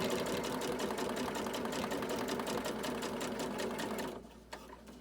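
A sewing machine runs steadily for about four seconds, stitching over the folded edge of a fabric mask with a rapid, even mechanical chatter, then stops, leaving a faint click.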